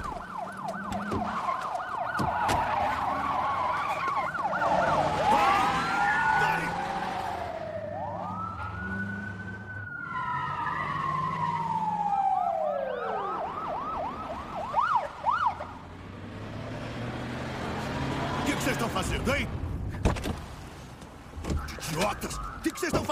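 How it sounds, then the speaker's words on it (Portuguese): Emergency vehicle sirens wail and yelp in a dramatic bank-raid scene, several rising and falling tones overlapping at moderate distance, with speech and bursts of other sound over them. "Já era, estou ouvindo as sirenes."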